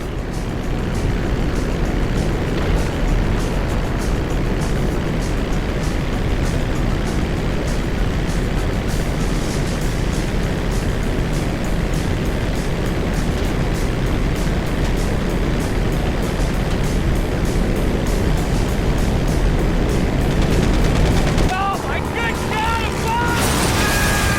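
An airplane in the GTA V video game roars in a steady, loud drone that holds for the whole stretch, with a few sharper game effects near the end.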